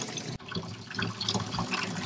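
Water rinsing corrosive cleaner out of a part while replacing the fuel filter on a 2018 Yamaha Grizzly 700 ATV: a steady splashing, running stream after a brief cutoff, close and continuous.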